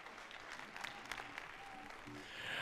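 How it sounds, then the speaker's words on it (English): A school jazz concert audience claps for student performers, a quiet, distant wash of applause with faint voices toward the end. "let's give these kids another round of applause"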